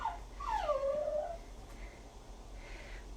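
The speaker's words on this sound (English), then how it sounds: "I'm sorry if you can hear my dog whining in the background." A dog whines in the background indoors with a drawn-out, falling whimper, faint and somewhat distant, then quieter soft whines trail after.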